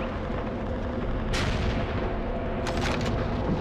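A German 88 gun fires in the Call of Duty World at War video game, heavy booming blasts over a dense, continuous rumble of battle noise.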